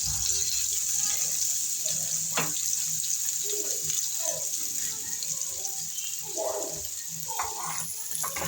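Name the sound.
chopped onions frying in oil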